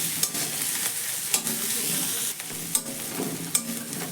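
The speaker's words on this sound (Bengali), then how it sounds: "আদা রসুন খুব ভালো করে ভাজা হয়ে গেছে" Ginger and garlic fry in a pan with a bright, continuous sizzle, punctuated by intermittent clacks and scrapes of stirring.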